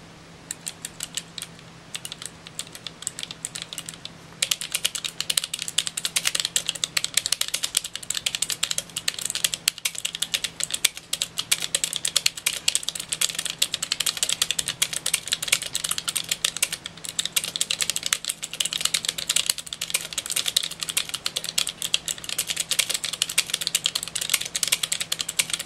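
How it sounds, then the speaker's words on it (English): Rapid, continuous typing on an LTC Nimbleback LK 301 low-profile mechanical keyboard with tactile, soft-click switches and an all-metal frame; close, dense clicking that starts lightly, then runs steadily for over twenty seconds. "This keyboard has mechanical switches that are tactile and have a soft click."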